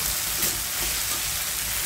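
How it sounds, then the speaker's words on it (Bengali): Potatoes sauté in spice paste and a little oil, giving a steady close sizzle and crackle of frying that runs evenly throughout with no voices. "এই মশলার ভিতরে আলু আর তেলের ভিতরে আমি সুন্দর করে কষিয়ে নেব"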